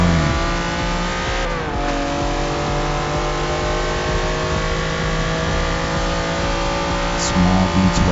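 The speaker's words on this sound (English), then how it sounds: "Small V12s, small V10s. It sounds so good though, don't it?" A small V12 or V10 car engine revs, a loud steady droning tone with bright harmonics that dips and climbs, and a brief pitch swoop partway through.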